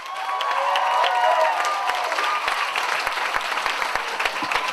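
A crowd at the Surrey's Got Talent winners announcement claps and cheers for the winning act, loud sustained applause with shouts and whoops that gradually thins out.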